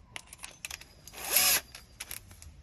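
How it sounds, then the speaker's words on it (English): A power drill briefly bores through a pilot hole in a small metal part for a 1/16 scale Leopard 2A6 model tank, a short whirring burst amid faint handling clicks. "you just drill that through the pilot hole, work your way through, and that will drill nicely"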